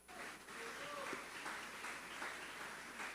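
A church congregation claps during a sermon, a faint and fairly uniform patter of hands with a little indistinct voice and ambient hum mixed underneath.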